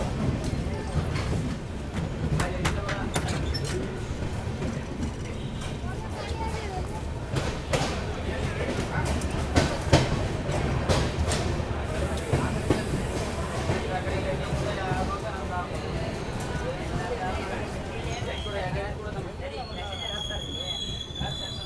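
A brand-new LHB coach of the Vishwamanava Superfast Express from Belagavi to Mysore rolls along steadily, with continuous wheel rumble and rail clatter filling the cabin and occasional squeals, as passengers talk in the background throughout.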